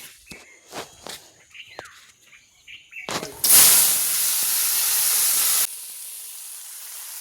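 Green beans dropped into hot oil with cumin seeds and dried chili for tempering, a sudden loud sizzling hiss that holds steady for a couple of seconds then drops to a softer crackle, preceded by light clinks and taps.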